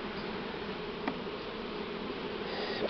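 A huge swarm of Buckfast honey bees buzzes steadily, a dense, continuous drone that stays loud and even throughout.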